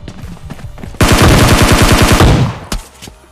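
A video game shotgun fires in a rapid, loud burst for about a second and a half, followed by a brief sharp report and fading echo, with no talking.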